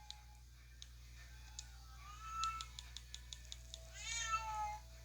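An indoor cat meows in a drawn-out, insistent cry that rises twice over a quiet room hum, while light computer keyboard clicks tick steadily in the background.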